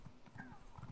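Horse hooves clip-clopping in The Elder Scrolls Online, a quick run of faint, close hoof strikes in a steady rhythm with no talk over it.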